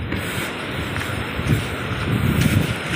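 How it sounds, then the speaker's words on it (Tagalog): Strong sea waves and gusting wind during a storm off the coast of Guimaras among mangrove islands, a loud, continuous churning roar with rushing surges and wind buffeting the microphone. "Grabe yung alon sa harap."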